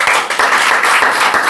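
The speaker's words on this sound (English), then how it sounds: "I would have clapping for them both" An audience at a spoken English training presentation claps steadily, with dense, even applause filling the whole span at close range and no talk.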